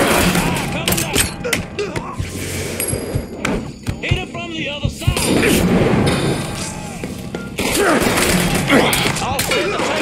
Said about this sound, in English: Bomb a fucking Molotov!